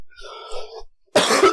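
A short throaty sound opens, then after a brief pause a single loud, harsh cough bursts out close by.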